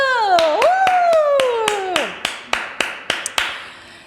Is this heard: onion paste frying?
no